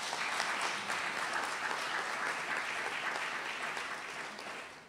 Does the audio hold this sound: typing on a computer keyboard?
no